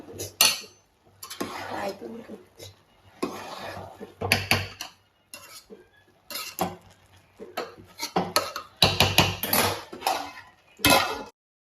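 A spoon scrapes and clanks through solala (kandi kaya) biryani in a metal cooking pot, in irregular bursts of stirring separated by short silent pauses, close and fairly loud.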